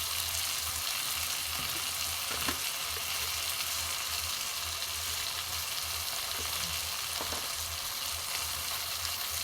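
Garam masala and grated ginger fry in a pan with a steady, close sizzle and crackle, broken by a few soft stirring scrapes, with no one talking.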